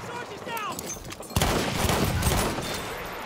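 Machine gun fire in the video game Battlefield 1 erupts as a loud, dense burst of rapid shots, preceded by a brief moment of a voice and continuing steadily to the end.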